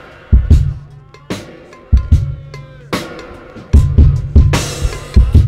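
A dry, unprocessed drum beat plays alone, with punchy kicks, sharp snare hits and ticking hi-hats in a steady loop.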